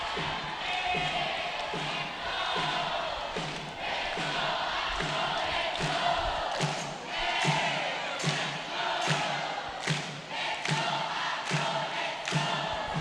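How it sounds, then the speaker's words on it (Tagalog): A packed crowd roars and cheers steadily at an inter-town volleyball tournament, with a dense, sustained wall of voices and repeated surges and thumps from the court. "Do you hear that crowd?"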